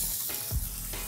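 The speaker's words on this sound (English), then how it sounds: "I'm gonna add in my onions, and we're gonna saute those." Onions sauté in a little olive oil in a pan that had held sausage, giving a soft, steady sizzle with a brief clatter of stirring midway, faint and close.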